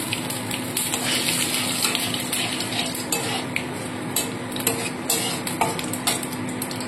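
A bay leaf, a dried red chili and whole cumin sizzle and crackle in hot oil in a pan, with a steady hiss broken by sharp pops and a few clinks of a stirring utensil.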